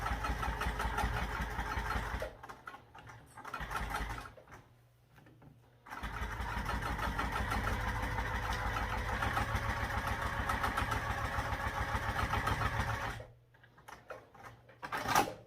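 A sewing machine stitches a backpack seam slowly, running in a steady mechanical whir broken by a few short pauses, then starting up again. No one talks.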